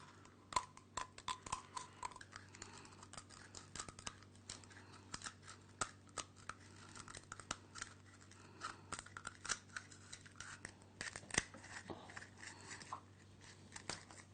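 Quiet, irregular snips and crisp crackles as brittle eggshell is cut bit by bit along marked lines, with a steady low hum underneath and no talking.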